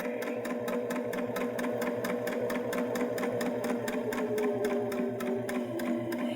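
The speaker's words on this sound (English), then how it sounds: "I'm going to stitch down to the end of my fabric, but not all the way to the end" A Baby Lock Jazz II sewing machine stitches steadily through fabric toward a corner, a close, fast and even mechanical chatter with regular needle beats and a running motor hum throughout, no voices.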